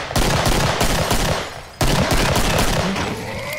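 Dense, sustained automatic gunfire from the video game Killing Floor, loud and continuous with a brief break near the middle before the rapid shots resume, with no talking.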